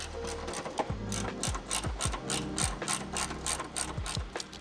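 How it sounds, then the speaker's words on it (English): A ratchet tightens a 10mm ground bolt on the inner fender of a 2016-2023 Toyota Tacoma, giving repeated close, crisp clicking pulls in an uneven rhythm with short pauses between strokes. "So we'll go ahead and just take that out, put our ground in there, tighten that back down."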